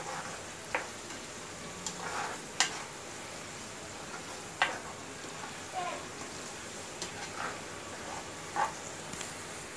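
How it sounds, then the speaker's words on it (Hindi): Chopped onion fries gently in a couple of spoons of oil in a pan with chillies and salt, a faint steady sizzle broken by scattered soft ticks and spoon clicks. "अभी ये कांदा थोड़ा आधा भुनने तक को फ्राई करने का"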